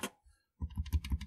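Keys on a Commodore Plus/4 keyboard clack in a quick burst of about five firm presses after a short pause, close and clear.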